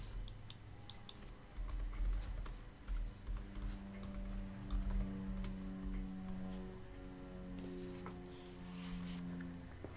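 Keys clatter on a computer keyboard while channel labels are typed into audio system setup software, quick irregular bursts of clicks close by, with a soft tonal hum in the background and no talk.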